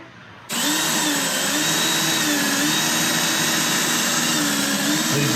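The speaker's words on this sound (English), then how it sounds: "All right, so we got the first pilot hole drilled." A power drill drilling a pilot hole on a race car kicks on suddenly and runs at a steady high whine, loud and close, with slight shifts in pitch as it bores.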